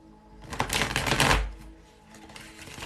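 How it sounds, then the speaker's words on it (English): A deck of tarot cards shuffled in a live reading, giving a dense burst of riffling, slapping card noise that swells and fades, then a softer second flurry, with no talk over it. "We're gonna shuffle once more."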